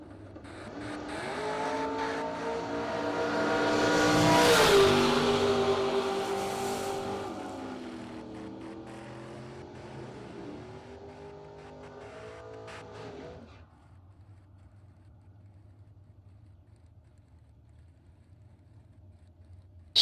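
Drag race cars, a chop top convertible Mustang and a Fox body, launch down the track with a loud roar that swells as they accelerate, then fades away, leaving quiet background noise.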